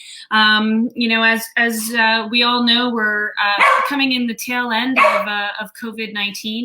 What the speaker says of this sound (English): that would be my puppy who doesn't know when to be quiet